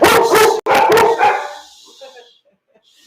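Several dogs bark and yip loudly close by in a rapid, overlapping burst that fades out, with a voice mixed in.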